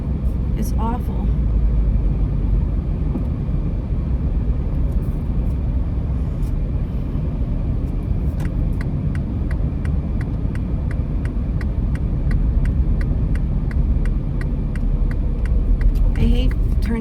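Car driving along a road: a steady, close engine and road rumble underneath, with a fast ticking, likely a turn signal, clicking in the second half and a person talking over it.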